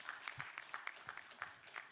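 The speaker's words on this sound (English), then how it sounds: "A big round of applause" Sparse, scattered claps from an audience at a women's leadership summit, fairly quiet and irregular, with a faint voice underneath.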